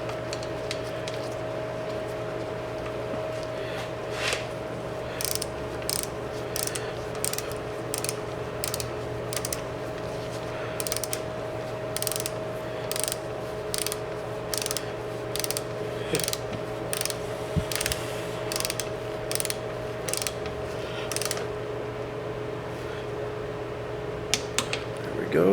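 Ratchet clicking repeatedly as two 8mm bolts are tightened down on a Mazda6 2.3l engine during assembly, steady bursts of pawl clicks over a constant low hum, close and fairly quiet, with no talking.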